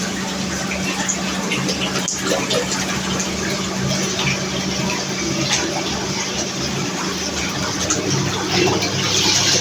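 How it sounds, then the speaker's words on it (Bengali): Water flowing steadily from the cascade spout of a smart jacuzzi, a continuous close rushing and splashing fill sound under a low pump hum, with no talk. "এই যে ক্যাস্কেট থেকে পানিটা চলে আসছে"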